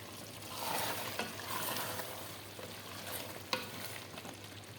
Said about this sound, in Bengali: আরও অনেক ভালো করে কষাইতে হবে।